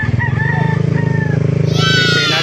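Gamefowl roosters crow from the back of a van in Bocaue, Bulacan, several long, loud, drawn-out calls that overlap one another close by over a low engine rumble.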